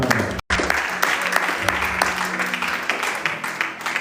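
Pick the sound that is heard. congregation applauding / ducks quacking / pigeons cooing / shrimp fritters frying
congregation applauding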